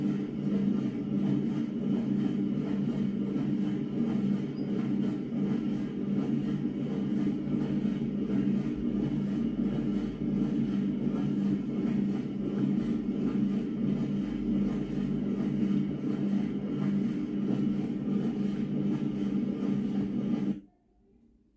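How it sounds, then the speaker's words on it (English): A washing machine drum turns round with a steady, even mechanical whirring and faint rhythmic thumping that continues unbroken, then stops abruptly at the end. "It's the sound of a washing machine turning round and"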